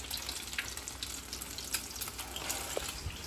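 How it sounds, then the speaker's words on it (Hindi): Chicken cutlets frying in a pan, a steady soft sizzle and crackle with scattered small pops, close and fairly quiet, with no talk. "तो चलो, ये फ्राई हो रहा है"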